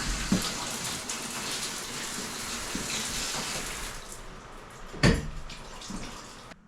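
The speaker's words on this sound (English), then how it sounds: "I'll just show you that everything is working currently for this standard shower" Water pours steadily from a standard shower head in a home bathroom, a soft, even hiss of spray that thins out late on, with a brief clunk partway through.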